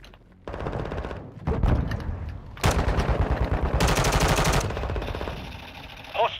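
Sustained bursts of automatic gunfire in a military shooter video game, fired to take out an enemy UAV, with rapid rattling volleys and brief gaps between them, loud and close throughout.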